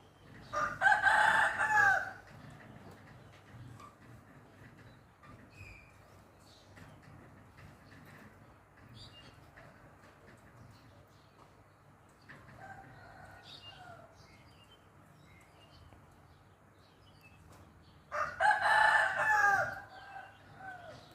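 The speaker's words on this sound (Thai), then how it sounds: "ไก่ก็ขันจัง" A rooster crows loudly nearby in a rural village after rain, then again after a long quiet stretch, with faint bird calls and distant clucking in between.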